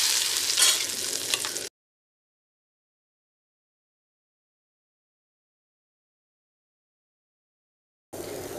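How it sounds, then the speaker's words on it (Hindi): Hot, smoking oil is poured into Schezwan sauce: a short burst of close sizzling and stirring, then a long dead silence, and the sizzle returns briefly at the very end. "गैस ऑफ कर देंगे और ये गरम तेल हम सॉस में डालेंगे"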